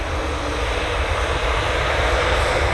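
Passenger jet airliner engines roar near the runway 05L end at Manchester Airport: a loud, steady, broadband rush that holds at constant level throughout, with no speech.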